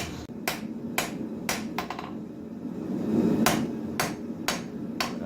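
Sharp metallic strikes of a farrier-style rounding hammer forging steel for a full-tang knife ring out one after another at an uneven pace, with a low background hum between blows.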